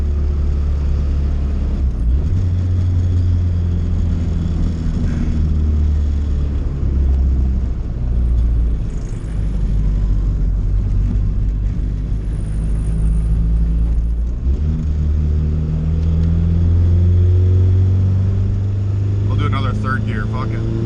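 Turbocharged B20 VTEC Honda Civic accelerating hard through the gears, a loud, steady engine roar that rises and drops with each shift, close up from inside the car, with people talking over it.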